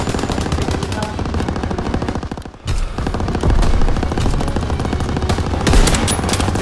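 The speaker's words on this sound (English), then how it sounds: "I'm just shooting through the smoke" Sustained automatic gunfire in the video game Call of Duty: WW2 hammers almost without pause, loud and close, with a brief lull before the dense shooting resumes.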